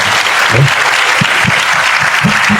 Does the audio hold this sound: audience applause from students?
yes